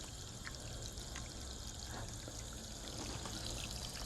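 Water pours and trickles steadily through a homemade tankless water heater, a faint continuous hiss with no speech.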